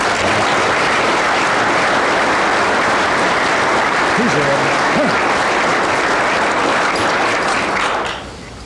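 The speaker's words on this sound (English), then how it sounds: "if we give all of these people one more round of applause for outstanding performance" Audience applause at a community awards ceremony, a loud continuous crowd of clapping filling the room, briefly joined by a short tonal sweep, then tapering off in the final second.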